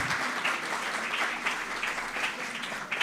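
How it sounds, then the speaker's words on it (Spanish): A congregation at a church service applauds, a steady, moderately loud patter of many hands that swells slightly in spots and carries on evenly throughout. "denle un aplauso"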